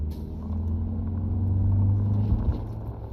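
Light car engine rumble while driving in Insurgency: Sandstorm, a steady low growl that swells slightly and then eases near the end, heard alone.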